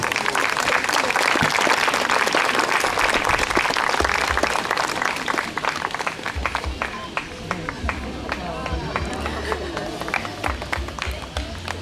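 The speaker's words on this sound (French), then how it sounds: "On peut applaudir plus chaleureusement Nathalie qui fait du super travail." Warm audience applause for a woman and her horse Blue after a horse-training talk, a dense, loud wash of clapping that thins slightly toward the end while a voice speaks over it.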